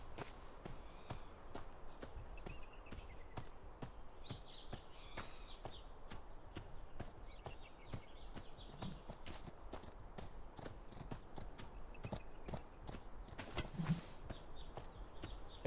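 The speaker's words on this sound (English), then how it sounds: "Hey, there's so many horses here." Horse hooves clip-clop in a video game, a quiet, steady run of sharp rhythmic hoofbeats from several horses at middle distance, with no talk over them.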